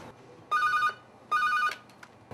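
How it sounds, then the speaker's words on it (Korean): An office telephone rings with an incoming call, two clear electronic ring bursts about a second apart, fairly close and alone against a quiet room. "오늘도 사무실에 신변 보호를 요청하는 의뢰 전화가 한 통 걸려옵니다"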